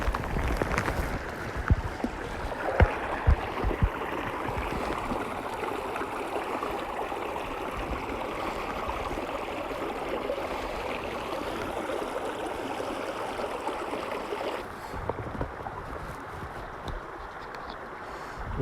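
Fast-flowing river water on Cherrybrook, Dartmoor, rushes in a continuous broadband roar close by, with some rustling and bumps near the start.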